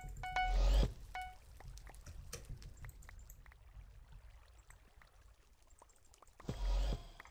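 Water poured out as a water source block in the game Bed Wars, a brief splashy pour at the start and again near the end, with quiet game ambience between.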